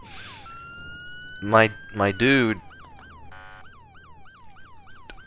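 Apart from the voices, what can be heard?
vehicle siren in video game ER:LC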